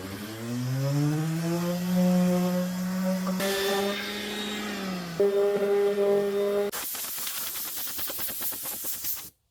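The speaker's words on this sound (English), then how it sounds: "We're going to go ahead and start with the sanding." A loud power sander whines steadily with a rising, harmonic motor tone, then shifts to a harsher, gritty buzz of abrasive scraping on a wooden bench near the end.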